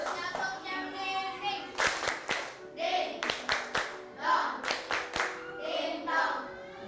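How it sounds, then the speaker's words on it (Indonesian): A group of children in a school classroom clap in rhythmic bursts, close and bright, with children's voices chanting and talking between and over the claps. "Tepuk tangan buat Rio juga."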